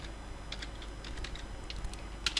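A computer keyboard tapped lightly in a few scattered keystrokes, faint over steady background hiss, with a quick double tap near the end.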